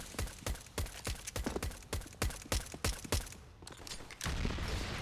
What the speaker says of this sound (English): All the shots from Device